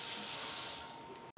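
Hot tap water runs steadily over a beef brisket in a sink for over a second, then cuts off abruptly near the end.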